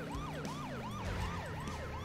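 Police car siren in a video game, a wailing up-and-down electronic tone repeating steadily about twice a second over continuous engine and street noise, with no voices.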